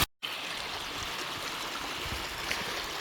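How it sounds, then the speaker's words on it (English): Creek running full after rain in the eastern Kentucky Appalachian woods, a steady broadband rush of flowing water, close and continuous from the first moment to the last with no voices. "The creek's kind of drowned out your sound."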